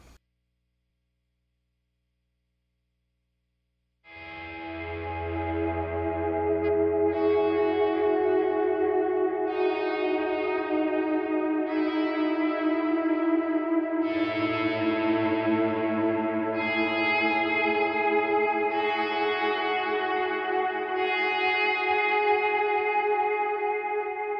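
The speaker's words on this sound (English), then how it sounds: "I have both delays on, the analog with the eighth note delay and dotted eighth delay," Sustained electric guitar swells fading in and overlapping, each note blooming slowly with analog eighth-note and dotted-eighth delay repeats and a washy reverb tail; a low hum sits underneath.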